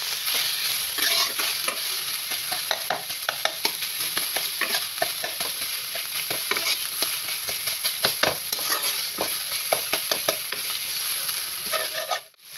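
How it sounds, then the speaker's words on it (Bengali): An egg spits and crackles in a hot frying pan while it is stirred and fried until browned. A dense, steady sizzle is broken by frequent sharp scraping clicks, up close and with no voices. "ডিমাটা ফেলে দিচ্ছি। এইবার আমি নেড়েও নিচ্ছি, দেখুন।"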